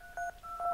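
Telephone keypad tones dialing Star 69 in the Agent A puzzle video game; a few short, clean beeps in quick succession, clear and alone.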